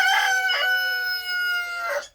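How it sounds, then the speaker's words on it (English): Chickens on a small farm make a couple of close, loud, harmonic crow-like calls in quick succession, with a third call near the end and no talk. "And the chickens are back to laying in this corner."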